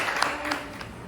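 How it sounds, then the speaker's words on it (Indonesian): Brief applause from a classroom of students, a soft, diffuse patter of many hands heard at a distance, faint and steady over about a second. "Tepuk tangan dulu untuk."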